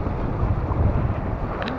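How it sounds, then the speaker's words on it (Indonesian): Strong wind buffets the microphone on a boat out at sea during a fishing trip, a steady loud broadband roar with water and hull noise beneath it and no talk. "Angin pun subhanallah boleh tahan kuat juga."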